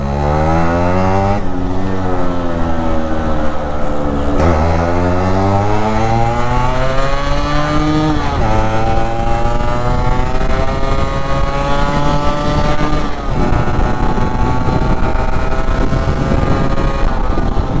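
A restored, stock-condition Yamaha RX-Z motorcycle riding at top speed, its engine loud and close with a sustained, rising whine that climbs through the gears in repeated surges, and no voices.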